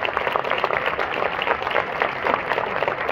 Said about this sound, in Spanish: Otro fuerte aplauso para nuestra compañera Inés Cano Calderón